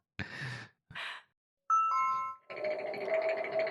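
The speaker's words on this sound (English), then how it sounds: "it's my doorbell" A home doorbell sounds in a quiet room, a few short bursts, then a sustained tonal chime ringing out clearly and fairly close, with no talking over it.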